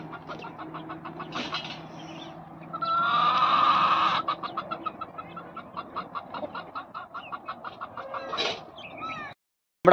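Chickens cluck in a steady run of short, repeated calls close by, with a brief louder flurry of squawking partway through before it cuts off.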